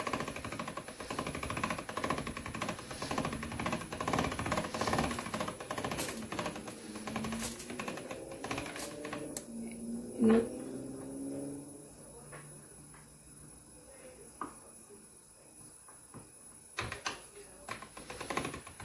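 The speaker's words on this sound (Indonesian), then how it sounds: "Nah ini ada cara cepat menggiling mie" A hand-cranked noodle rolling machine presses and flattens noodle dough with a steady rattling, clattering rumble and repeated knocks up close, then quiets as the pressing stops, with someone talking throughout.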